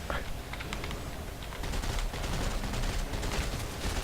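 Rapid bursts of gunfire in the horror video game Awakened, dense rattling shots running continuously for several seconds, loud and busy, with a voice talking over them.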